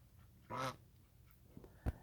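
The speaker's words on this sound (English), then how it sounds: "my geese are coming and talking and distracting so much" Backyard geese let out a short honking call, then a couple of faint scuffs and one sharp, brief honk near the end, quiet and fairly close with no talking.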